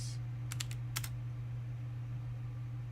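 Computer keyboard typing in two short bursts of quick clicks, about four keystrokes then three, near and fairly clear over a steady low electrical hum, with no talking.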